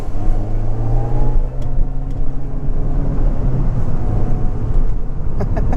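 A 2006 Mini Cooper S John Cooper Works (R53) accelerates hard at full throttle, its engine drone rising steadily and loudly with constant road and wind roar throughout, no voices.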